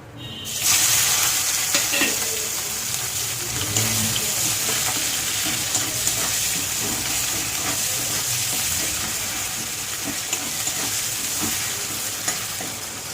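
Onion frying in a pan, a dense, steady sizzle and crackle of hot oil starting abruptly and continuing loudly throughout, with faint stirring scrapes underneath.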